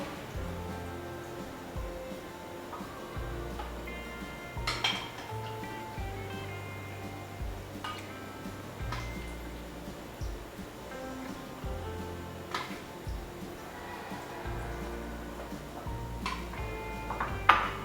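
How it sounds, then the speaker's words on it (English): A spoon scoops Bingfen ice jelly, made with brown sugar, into a bowl, giving light clinks and taps of metal against the dish over a low steady background hum, with a sharper knock near the end. "using a spoon, scoop some Bingfen into the bowl"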